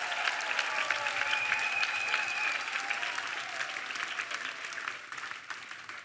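A church congregation claps for Jesus in sustained, even applause that fills the room and fades slightly toward the end.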